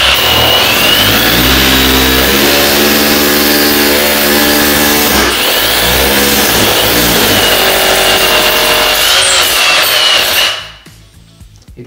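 A power drill runs loud and close, drilling into a floor during underfloor heating renovation work. Its motor whines steadily and the pitch shifts under load for about ten seconds before stopping abruptly.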